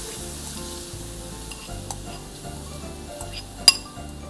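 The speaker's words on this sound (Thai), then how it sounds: "ลดไฟลงหน่อยเนาะแล้วก็ใส่ กระเทียมนะคะที่เรา ปั่นไว้เมื่อกี้เนาะใส่ลงไปเลยเจียวให้หอมเลยนะคะ" Minced garlic fries in hot oil in a pan over lowered heat, a steady soft sizzle with occasional stirring scrapes and one sharp clink of a utensil against the pan.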